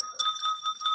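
A small bell jingles close by in a quick run of repeated rings, bright and sustained, lasting about a second.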